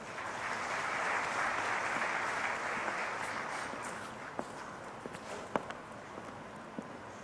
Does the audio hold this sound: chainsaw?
no